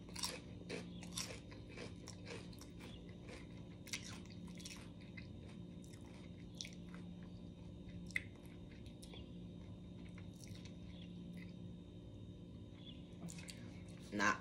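Crunchy honey barbecue Rap Snacks potato chips being bitten and chewed up close, a run of irregular crisp crunches with a voice talking over parts of it.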